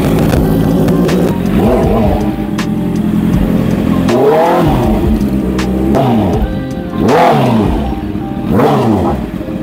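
A Honda CB650R motorcycle engine starting cold, running loud and close with repeated revving swells rising and falling over a steady idle.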